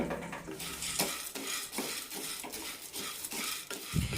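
A spoon repeatedly scrapes and clinks in a pan as toor dal and curry leaves dry roast over medium heat, with a faint sizzle underneath and a rhythmic stirring pattern.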